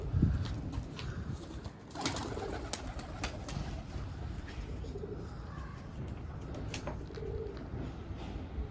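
Pigeons coo repeatedly from a rooftop loft where posta pigeons are being released, soft, steady throaty calls that continue throughout with faint outdoor background noise and a few light wing sounds.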